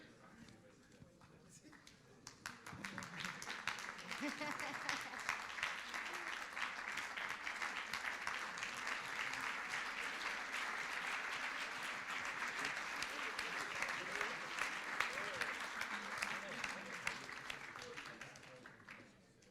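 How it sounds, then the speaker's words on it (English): Sustained audience applause at an investment summit as a minister walks in, a steady wash of clapping that swells after a quieter start and holds for a long stretch before fading. "A round of applause for the minister as he walks in."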